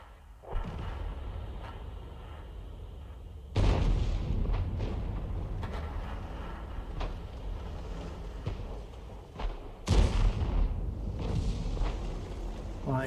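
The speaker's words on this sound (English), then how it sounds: "T-52 fires a round in a snapshot" A tank gun in a World of Tanks–style game fires a round from a T-52, a sharp heavy boom followed by a rumbling tail, with a second loud blast later over continuous engine and battlefield noise.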